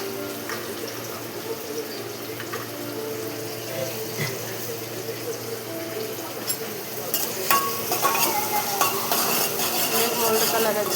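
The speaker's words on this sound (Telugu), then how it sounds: "ఉల్లిపాయ, పచ్చిమిర్చి ఇవి గోల్డ్ కలర్ వచ్చేదానికి వేయించుకోవాలి" Onion and green chillies frying in a pan until golden, a steady close sizzle with stirring and occasional scrapes of a spoon against the metal, growing louder and busier toward the end.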